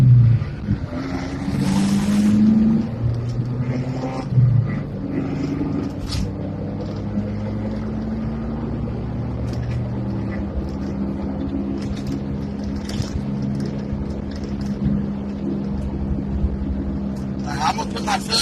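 A car engine hums steadily while cruising, with wind rushing past and a voice talking over it now and then.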